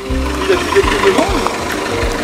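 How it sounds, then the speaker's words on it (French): A three-wheeled tractor approaches with a low, knocking engine chug pulsing steadily beneath loud overlapping talk outdoors. "Il y a un tracteur qui arrive"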